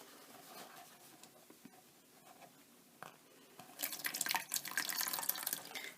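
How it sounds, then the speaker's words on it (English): Water poured over beeswax-treated waxed canvas fabric, splashing and rolling off in a steady bright rush that begins partway through after quieter trickling and drips. "you can just see the water rolling off there"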